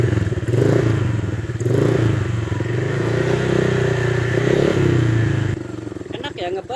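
Close motorcycle with a CLD C2 aftermarket exhaust, given a few short throttle blips that rise and fall over a deep, bassy idle, ending in an uneven popping burble, with a voice talking over it.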